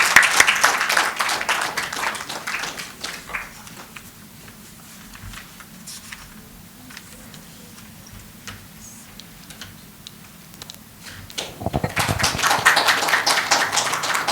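An audience at an awards ceremony for women leaders and EHS professionals applauds. A burst of clapping fades into sparse scattered claps and ticks, then swells again into fuller applause near the end.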